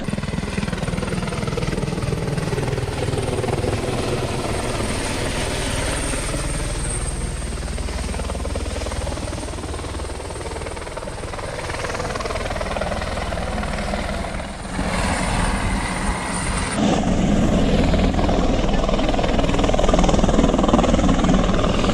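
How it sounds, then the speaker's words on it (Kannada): A helicopter approaching a helipad to land, its rotor and engine roar loud and steady throughout, swelling slightly toward the end with no talk over it. "ಅದೇ ಹೆಲಿಪ್ಯಾಡ್ನಲ್ಲಿ ಸುದೀಪ್ ಹೆಲಿಕಾಪ್ಟರ್ ಲ್ಯಾಂಡ್ ಆಗುತ್ತೆ"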